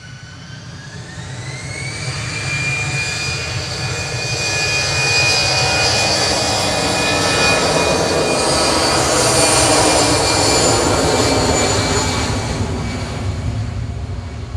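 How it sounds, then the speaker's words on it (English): Engines of a Lufthansa Airbus A319 departing Manchester for Frankfurt, a loud jet roar that swells and peaks near the middle, with a rising whine climbing early on and then holding steady, no voices. "Lufthansa A319, DAIBA, departing to Frankfurt there with flight 941."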